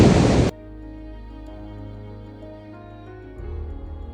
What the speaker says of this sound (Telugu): సముద్రం కూడా ఫుల్ పోటీ మీద ఉంది.